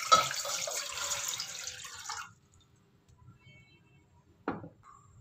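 Water pours into a saucepan in a close, bright stream for about two seconds and then stops, followed by near silence and a single light knock.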